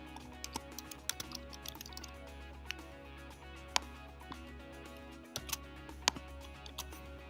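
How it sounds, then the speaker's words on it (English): An email address being typed on a computer keyboard, heard as faint, irregular key clicks over a low steady electrical hum. "You'll type in the enrollee's unique email twice"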